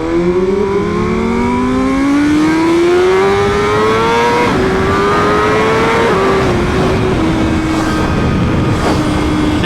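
A BMW M1000RR sport motorcycle accelerates hard at speed, its loud engine climbing steadily in pitch through several gear changes, heard close up under rushing wind.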